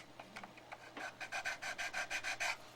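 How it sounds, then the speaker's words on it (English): Sandpaper rubs back and forth over leftover plastic kerf on a Revell Gato submarine model kit, a quiet, close rhythmic rasping of about a dozen short strokes that speed up toward the end, with no talk. "Clean up the little bit of kerf hanging off there. I think I can do that with some sandpaper"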